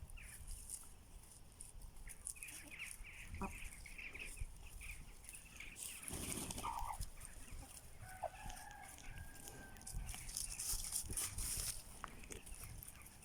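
Chickens and a rooster on a small farm cluck and crow faintly at a distance, with scattered calls over a quiet rustling background and no talk.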